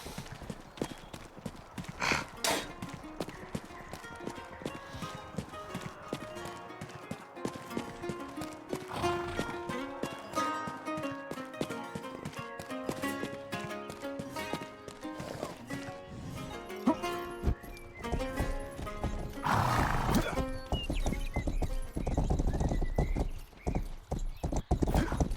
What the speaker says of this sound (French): normalement, il y a des chevaux à la porte de la ville, je crois